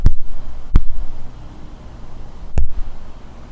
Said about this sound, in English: It's slap sound effects, but it's the same.